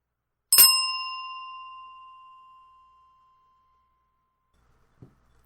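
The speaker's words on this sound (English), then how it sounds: "Now, I'm going to ring my bell, and I'm going to try to make sure that it is not too loud" A single strike of a small magical bell rings out clearly, its bright tone with steady harmonics decaying slowly over about two and a half seconds into silence, followed by a faint soft knock near the end.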